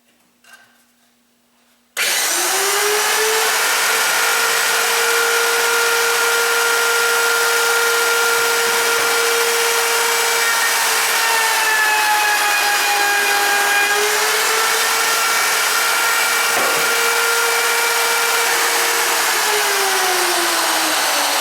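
Wood router mounted on a table saw, spinning at about 22,000 RPM and cutting a profile in wood: a quiet start, then a loud sustained high-pitched whine with slight pitch dips as the bit bites, close and continuous.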